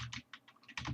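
Quick, close keyboard keystrokes tapping in an uneven burst of about a dozen clicks, quiet and with no speech.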